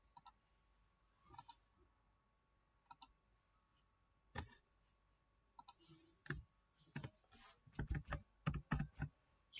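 Code typed on a computer keyboard, sparse quiet key clicks at first that turn into a quicker cluster of sharper keystrokes toward the end, in a quiet room.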